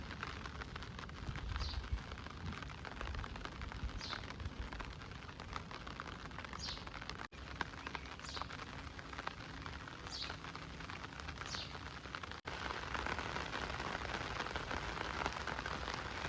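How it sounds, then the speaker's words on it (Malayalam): Heavy rain falls steadily and loudly on an umbrella while someone walks in the morning, a dense, constant patter with a few faint bird chirps above it and no talking. "നല്ല മഴയായി ഇപ്പോൾ"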